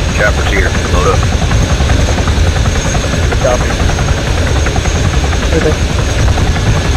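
Helicopter in a military combat simulator video game arriving as a loud, steady rotor and engine drone that fills the whole clip, with radio-style voices talking over it.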